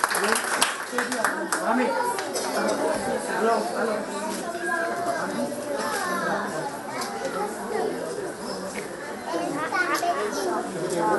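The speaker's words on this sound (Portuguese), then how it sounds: "Aplauso para FC Pro SUAX, categoria dia sum." Applause for a youth football team, FC Pro SUAX, at a neighbourhood centre's anniversary event; scattered clapping mixed into lively crowd chatter and children's voices, continuous and moderately loud throughout.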